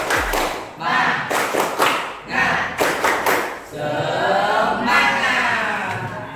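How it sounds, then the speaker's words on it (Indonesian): A classroom group performs a rhythmic Indonesian clapping cheer: bursts of patterned claps in quick clusters, followed by voices chanting together near the end, close and moderately loud. "Setelah berdiskusi kita kembali tepuk semangat ya."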